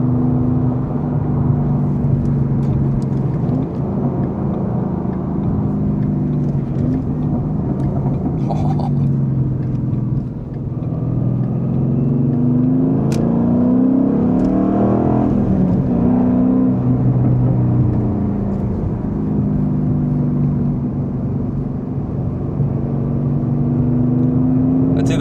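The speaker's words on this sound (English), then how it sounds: "So when you let off the gas, the car just pulls you back and it slows down relatively quickly on its own." 2012 Ford Mustang Boss 302 V8 decelerating on engine braking while driving, a steady low rumble and drone heard from inside the cabin that swells and eases slightly, with no talk.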